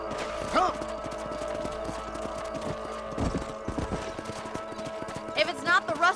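Hooves clip-clop steadily at a brisk pace under a sustained musical drone, with a horse snorting briefly near the end, from the video game Red Dead Redemption.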